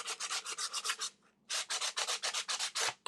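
Sanding of a mixed media wall art piece: a rapid run of rough rubbing strokes, a brief pause, then another steady burst of strokes, close and fairly loud, with no talking.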